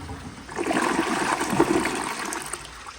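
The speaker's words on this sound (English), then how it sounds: "I will give it one more flush" An American Standard Townsend Vormax toilet gives a second flush to clear a stuck load, a loud, close rush of swirling water that holds steady for a few seconds before easing toward a trickle.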